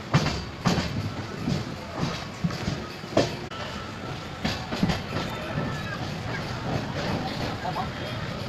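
Lingampally–Vijayawada Intercity Express, train no. 12796, running with a steady rumble and irregular rattling clacks throughout, a close interior sound with faint voices in the background.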